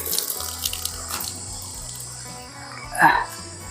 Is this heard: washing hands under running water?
yes